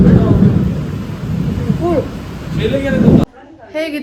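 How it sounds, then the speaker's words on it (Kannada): Heavy rain pours down as thunder rumbles, a dense, steady roar with people talking over it outdoors, before the sound drops away near the end. "ಸಖತ್ತಾಗಿ ಮಳೆ ಬರ್ತಾ ಇದೆ, ತಣ್ಣಗಿದೆ."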